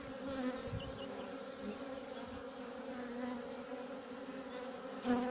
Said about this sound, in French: Ah, on voit les abeilles qui descendent.